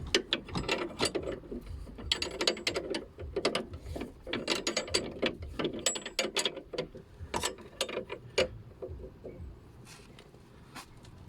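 Ratchet tightening the nut on a vehicle's anti-roll bar link, a rapid, close clicking of the pawl in repeated bursts, with short pauses between strokes and slowing toward the end.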